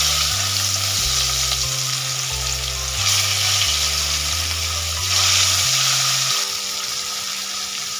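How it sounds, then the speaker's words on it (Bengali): Rohu fish pieces fry in hot oil seasoned with turmeric, a steady loud sizzle that runs throughout with slight shifts in intensity, close by and with no talking. "এইবার বাকি তেলের মধ্যে মাছগুলো ভেজে নেব।"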